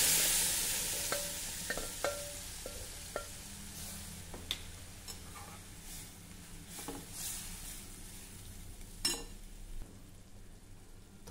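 Mashed taro leaf (alu) vegetable tipped into a hot tempering, a soft continuous sizzle under scattered clinks and scrapes of stirring in the pan, close up, with no one talking.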